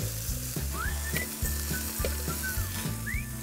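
Mushrooms and potatoes sizzle steadily in a frying pan, a close, continuous crackle with faint whistling tones over a low rhythmic hum.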